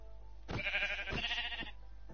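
A sheep in the Minecraft video game gives a single drawn-out bleat lasting about a second. It is clear but fairly quiet, over a steady low hum.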